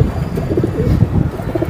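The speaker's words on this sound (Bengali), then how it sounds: "এই যে কবুতর বাকুম একদম দেন" A big, high-quality pigeon coos close by, a low rolling burble repeated several times over a short span, with no talk.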